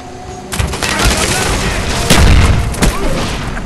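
Bursts of video game gunfire and booming shots during a Search & Destroy match, loud and rapid with heavy thumps, while game voice lines play over the shooting.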